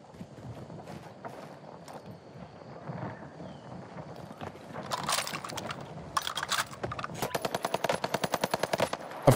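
Gunfire in the Warzone video game set in Verdansk: scattered shots build into rapid automatic bursts over steady background noise, ending in a dense, evenly spaced string of loud shots.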